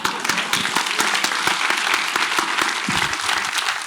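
A film festival audience applauds at a Jagran Film Festival 2023 conversation with actor Anupam Kher, dense steady clapping from a large crowd filling the hall without a break.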